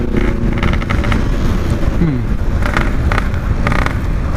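BMW GS motorcycle engine revving loudly nearby, with bursts of acceleration and rising pitch amid other engine and traffic noise at a night gathering, with voices underneath.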